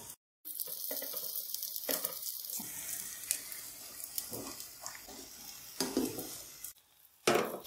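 An aloo paratha cooks in oil on a pan, giving a soft, steady sizzle with occasional scraping and turning noises, close up and quiet, broken by brief silent gaps.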